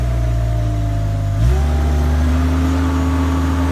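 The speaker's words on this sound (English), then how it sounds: "Throttle it up on the rabbit. Yep, throttle it up." An Advance Exterra industrial sweeper's engine idles steadily up close, then throttles up with a sharp rise in pitch and settles into a louder, higher, constant run.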